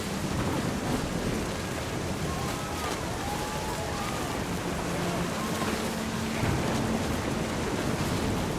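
Video game thunderstorm in What Remains of Edith Finch, a dense, constant roar of rain with low rolling thunder rumbling underneath and faint musical tones threaded through, heard loud and continuous.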